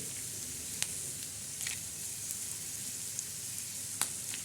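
Peanuts roast in a hot pan for a bitter gourd masala, giving a steady, close sizzling hiss with a few faint scattered pops and ticks throughout.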